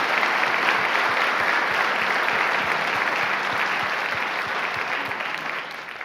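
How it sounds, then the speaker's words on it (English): A debate audience applauds the county executive candidates, steady dense clapping filling the hall throughout and fading slightly toward the end. "let's give them a round of applause"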